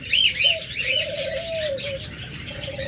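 A pair of violet-masked pet lovebirds chirp in quick, high bursts at close range, with a steadier whistled call running beneath, alone with no voices.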